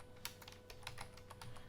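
Quiet clicks of a computer keyboard as a few words are typed, a light irregular patter of keystrokes heard close over faint background hum.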